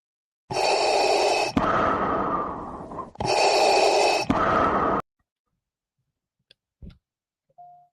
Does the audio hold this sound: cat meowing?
no